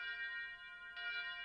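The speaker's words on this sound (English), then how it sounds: "A bell rings far away." A distant funeral bell sounds as a visual novel sound effect, one sustained ringing tone that fades and is then struck again, faint and far off with no voices.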